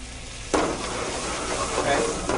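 Octopus braising jus with natural gelatin hitting a hot pan and reducing, a sudden burst of loud, bubbling sizzle that keeps hissing steadily.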